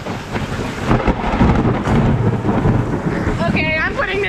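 A thunderstorm with heavy rain pouring steadily and loud rolling thunder rumbling close through most of the moment, with a brief faint voice near the end.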